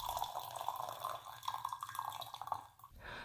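Brewed Bai Hao Yin Zhen (Silver Needle) white tea pours in a steady, close liquid stream for about three seconds, with light trickling and dripping before it tapers off.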